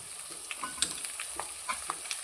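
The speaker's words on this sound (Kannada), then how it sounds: "ಈಗ ಇದಕ್ಕೆ ನಾನು ಕಟ್ ಮಾಡಿಟ್ಟಿರೋ ಅಂತಹ ಈರುಳ್ಳಿನ ಆ್ಯಡ್ ಮಾಡ್ಕೊಳ್ತಿದ್ದೀನಿ" Chopped onions frying in oil in a pan for lemon chitranna, a soft steady sizzle with occasional stirring clicks and scrapes, close and fairly quiet, with no talking.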